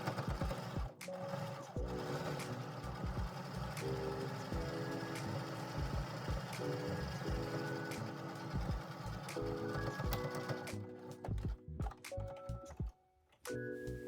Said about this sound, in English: Sew a top stitch hem on the top edge flap of the pocket.